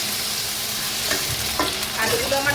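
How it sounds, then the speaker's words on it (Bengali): Thin-sliced potatoes fry in hot oil in a kitchen pan, a steady close sizzle with occasional stirring scrapes and clinks, and no talk. "আলুগুলো একটু ভেজে নেবো আগে"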